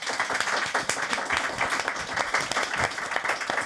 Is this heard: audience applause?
yes